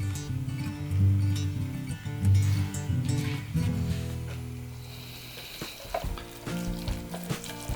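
Stir-fried Nongshim Neoguri noodles being mixed with chili seasoning and seafood sauce in a hot pan: steady close sizzling with scraping, shuffling stirring strokes throughout, loud and continuous, no talking.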